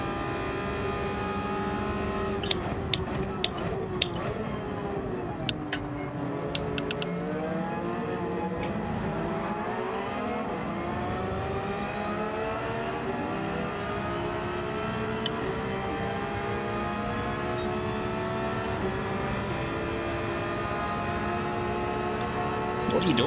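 Race car engine in Gran Turismo 7 during a Nürburgring 24-hour race: a continuous, steady engine drone whose pitch sweeps up and down with acceleration and gear changes, with a few brief clicks.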